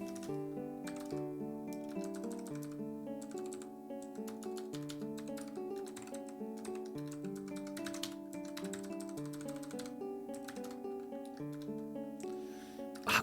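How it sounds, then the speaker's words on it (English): Soft, rapid keyboard clicks from someone typing code on a computer, quiet and intermittent under steady background music, with no talking. "I'm not very good at typing this."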